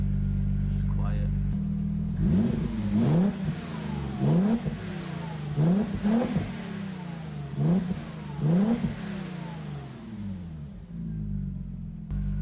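An Audi B5 S4 engine and exhaust are blipped about five times in a row, each rev rising and falling back to a steady, fairly quiet idle, heard nearby.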